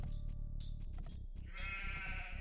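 Sheep in the Age of Empires 2 strategy game bleat repeatedly in wavering cries over a steady bed of game music and ambience, with no voices.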